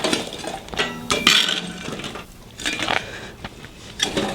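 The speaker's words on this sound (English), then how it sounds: "Put the lid on. Put some coals on top." Metal clanks and scrapes as a heavy lid settles onto a camp oven, followed by scattered clinks and rattles of coals dropped on top, close by.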